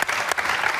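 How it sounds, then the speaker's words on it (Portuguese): A short burst of enthusiastic studio audience applause on a Portuguese TV show, dense clapping at full volume with no voices standing out. "Um grande aplauso para Márcia Breia."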